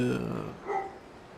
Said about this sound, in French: désolé pour le chien cabot, j'espère que ça va pas durer